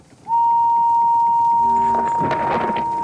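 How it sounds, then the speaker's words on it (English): A cartoon steam engine from Thomas & Friends blows her whistle: one loud, pure, sustained tone held for nearly three seconds. Near the end, chuffing and rumbling engine sounds join in beneath it. "And she blew her whistle."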